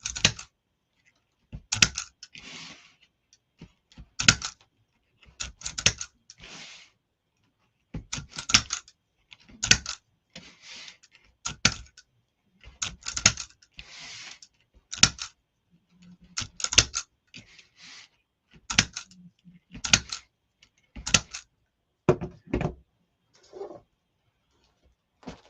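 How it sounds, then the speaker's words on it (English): Zip tie gun tightening and snipping plastic zip ties on a deco mesh sunflower wreath, heard as a long run of sharp close clicks and ratchet bursts, some single and some in quick clusters, with short quiet gaps between. "This is a zip tie GUN, so it tightens and cuts the zip ties all at once."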